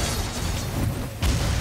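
An explosion in the video game NieR: Automata gives a dense, steady roar of noise, then a heavy, low boom punches in near the end.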